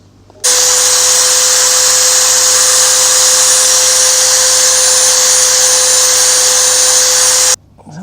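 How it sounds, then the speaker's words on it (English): A Dremel rotary tool cuts into a guitar headstock with a loud, steady high-pitched whine that holds for about seven seconds, then stops abruptly. "mark this and then cut it with my Dremel tool"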